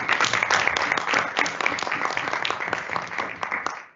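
Applause in a council chamber at a full council meeting, a steady wash of many hands clapping for four seconds, fairly close, fading slightly at the end.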